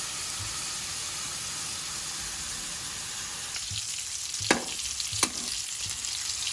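Meat frying in a pan until golden brown, a continuous close sizzle that settles slightly partway through, with a couple of sharp stirring scrapes near the end.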